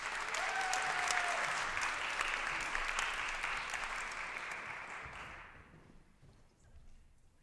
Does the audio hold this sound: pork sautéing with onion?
no